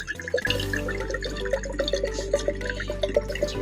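Water poured into a container for a water and sugar science experiment, a close, bubbly trickle with gurgling splashes and rising tones as it fills, preceded by a brief knock, with steady background hum and no talk.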